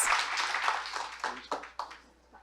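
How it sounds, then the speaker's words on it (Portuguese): Applause at an award ceremony for digital citizenship in education: a short, fairly faint stretch of scattered clapping that fades out over a couple of seconds. "receba mais uma salva de palmas"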